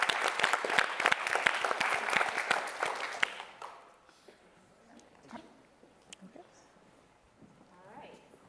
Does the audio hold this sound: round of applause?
yes